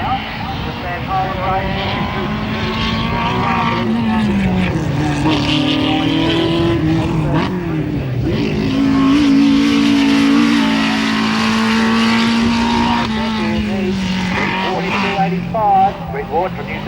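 A race car climbs the hill course at the 1994 Australian Hillclimb Championships at Collingrove, its engine revving hard through rising and falling gear changes, loud and close throughout, with a commentator talking over it.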